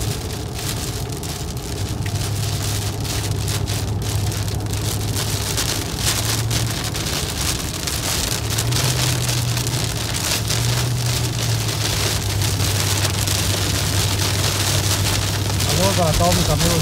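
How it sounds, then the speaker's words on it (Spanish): Heavy storm rain pours steadily onto surfaces in Morehead, Kentucky, a dense hiss with low rumbling underneath and a voice speaking at times. "Es una tormenta que está lloviendo."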